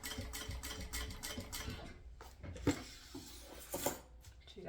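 A domestic sewing machine stitches a bag, a fast rattling run of stitches followed by a pause, short reverse backstitch bursts and a few clicks of the mechanism, close by with no talk.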